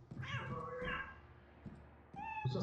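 A cat in the video game Lethal Company meows close up several times in quick succession, with rising and falling cries separated by brief pauses and no talking.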